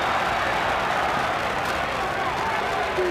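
A basketball arena crowd at an Indiana Hoosiers versus Cincinnati Bearcats game reacts to a turnover with a broad, steady roar and murmur that holds at an even level throughout.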